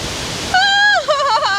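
Strong rushing water at Nungnung Waterfall in Bali makes a steady broadband roar, and after half a second a loud, wavering high-pitched tonal sound rides over the noise.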